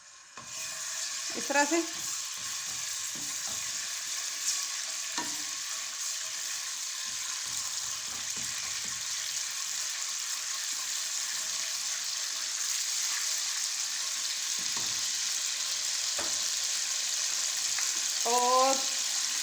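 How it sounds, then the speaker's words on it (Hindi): Ginger garlic paste fries in hot cooking oil with a steady, bright sizzle, while a spoon stirs and scrapes the pan now and then and a voice speaks briefly. "कुकिंग ऑयल हमारा गर्म हो गया है। अब इसमें हम अदरक लहसुन का पेस्ट डाल देंगे"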